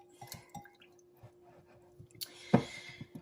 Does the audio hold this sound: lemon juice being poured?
yes